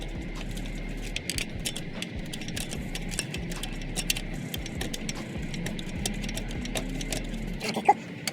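Socket ratchet clicking on engine bolts of a 2005 Ford Mustang during engine removal at home, a quiet run of small rapid clicks and mechanical ticks with a low hum underneath and no talk.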